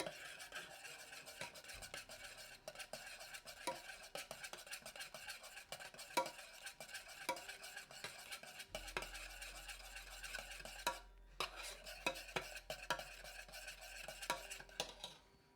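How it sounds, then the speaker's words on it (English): A small whisk stirs in a bowl while cooking, giving soft, quick, rhythmic scraping and tapping against the bowl, faint and continuous with occasional louder clinks. "Oh, I need to use Shelley's little whisk"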